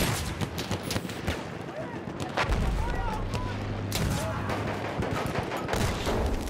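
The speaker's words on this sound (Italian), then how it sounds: "Si può uccidere con questa artiglieria." Battlefield 1 artillery and gunfire in a video game match, a dense run of rapid shots and heavy booms over a constant rumble, with someone speaking over it at times.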